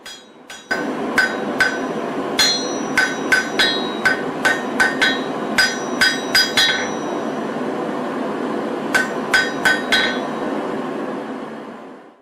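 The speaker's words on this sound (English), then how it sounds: "Now I'll hot cut the blank to form the point." Hammer strikes on hot Damascus steel as a knife blank is hot-cut to form the point, sharp metallic rings in quick irregular bursts over a continuous forge roar, close and loud, no talk.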